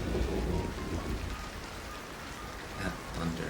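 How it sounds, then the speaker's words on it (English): Rain pours in the video game Scrap Mechanic, a dense steady hiss with low thunder rumbling at the start and again near the end, loud and close. "That thunder."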